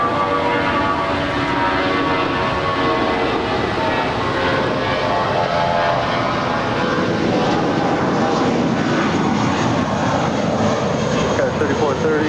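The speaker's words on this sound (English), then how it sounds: "This is United Airlines 403 departing to San Francisco. It's a 28-year-old Airbus A320." A 28-year-old United Airlines Airbus A320 departing LAX for San Francisco, its jet engines roaring loudly and steadily throughout at close range with no break.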